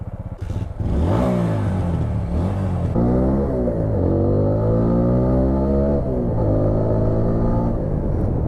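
A 2018 TVS Apache RTR 160 4V motorcycle engine revs and accelerates nearby, loud and raspy, with rising pitch sweeps as it climbs through gears over several seconds.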